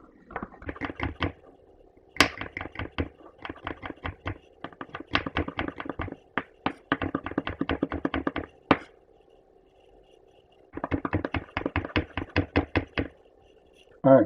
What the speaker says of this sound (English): Now I'm gonna go ahead and start cutting up my season, right? First I'm gonna start with my garlic.